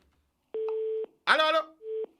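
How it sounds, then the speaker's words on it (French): On a radio call-in line a caller hangs up, leaving a steady busy-signal tone: one long beep, a short burst of voice, then a second, shorter beep, clear and up front. "Donc, ça raccroche."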